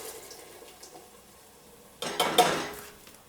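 Canned cannellini beans with their liquid dumped into a pot, giving a sudden wet splash and slosh with a faint metallic clink from the can against the rim.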